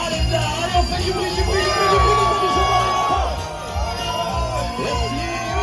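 A Ligue 1 stadium crowd at Stade Rennais versus Lyon cheers for the goalkeeper with loud, sustained roaring and scattered whoops, while an announcer's amplified voice carries over the noise.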